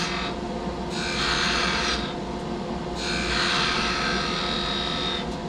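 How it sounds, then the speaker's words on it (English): A skew chisel takes paring cuts across the end grain of a wooden top turning on a lathe, giving three or four close bursts of bright shaving hiss separated by short pauses over a steady motor hum. "Paring cut across the ends of the fibers."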